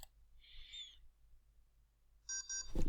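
Two short electronic beeps in quick succession from a LEGO Mindstorms EV3 brick, close and clear, after a faint tonal chirp and near silence, ending with a bump of handling noise.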